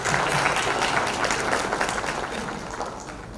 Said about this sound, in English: If we all could give them a round of applause.